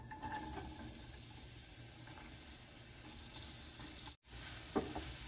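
Chopped onion dropped into a spoonful of hot oil in a pan for a garlic mushroom dish, giving a steady low sizzle and crackle with a brief sharper burst near the end, no talking.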